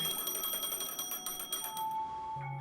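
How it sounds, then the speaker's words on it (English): A phone rings in the video game Honkai Star Rail, a bright repeating electronic tone pulsing in a steady pattern, then cutting off as a softer chime takes over near the end. "A phone."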